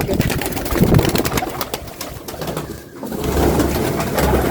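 Pigeons coo softly in low, throaty murmurs close by, mixed with fluttering and rustling sounds and background noise.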